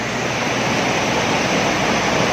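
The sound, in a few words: water flowing from a waterfall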